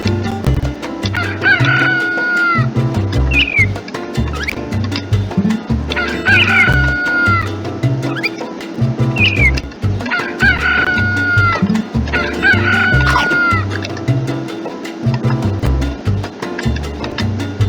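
Chickens cluck and roosters crow repeatedly in the Scratch game Chicken Catch, with loud overlapping crows recurring every few seconds over a steady bed of clucking throughout.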